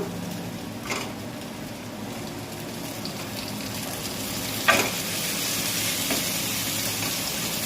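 Tomatoes sizzle and fry in a hot pan for an easy mixed dal, a steady soft crackle with a couple of brief louder stirring scrapes.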